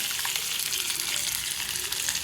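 Ginger pieces and green chillies fry for poha upma in a steady, close crackling sizzle that holds even and continuous throughout, with no talk.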